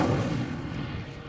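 An Incendio fire spell goes off in Hogwarts Legacy as a short, loud whooshing burst with a low rumble that fades over about a second, heard alone.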